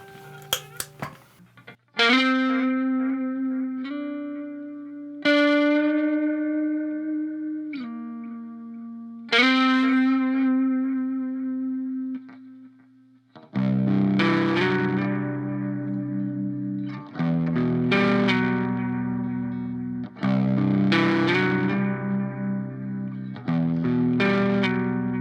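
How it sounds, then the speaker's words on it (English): Electric guitar through a Donner Extreme Driver distortion pedal with added delay, playing sustained singing notes and then heavier chugging chords, loud and alone, with echoing repeats trailing each phrase. "It's great for if you add a delay to it,"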